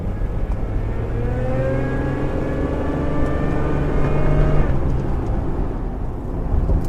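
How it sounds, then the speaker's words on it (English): A supercharged Toyota Hilux engine revs hard under acceleration, a loud rising whine that climbs steadily for several seconds, then drops abruptly as the throttle lifts and a rough idle rumble continues. "even in stock form, the supercharger is fucking loud, even though it's got a silencer on the intake"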